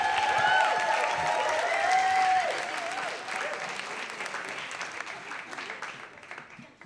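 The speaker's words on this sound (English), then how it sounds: "keep a big round of applause" Applause from the audience at a storytelling event, a broad clapping wash that starts strong and gradually tapers, with a few tonal cheers or voices mixed in near the start.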